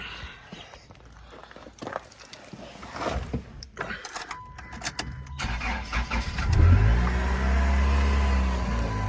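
A worn-out Voyager vehicle with a decent engine is jump-started, with scattered clanks and footsteps before the engine cranks and catches, then settles into a steady, close rumbling idle.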